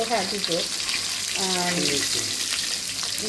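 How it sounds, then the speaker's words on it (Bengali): Tengra fish fry in hot oil with a steady, loud, dense sizzle that runs the whole time, while someone talks over it. "এই যে মাছ রান্না হচ্ছে"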